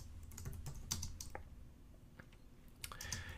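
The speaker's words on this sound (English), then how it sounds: "Let's just type out string my text" Close, fairly quiet keystrokes on a computer keyboard come in an uneven burst of clicks with short pauses while code is entered, no voice present.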